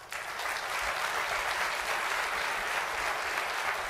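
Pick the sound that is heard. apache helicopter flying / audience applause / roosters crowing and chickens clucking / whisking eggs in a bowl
audience applause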